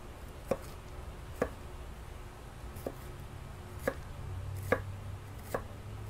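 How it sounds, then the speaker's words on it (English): A knife chops vegetables on a cutting board for conch ceviche, with about seven crisp knocks at an uneven pace over quiet room noise and a low hum, close and with no speech. "Let's chop up some veg."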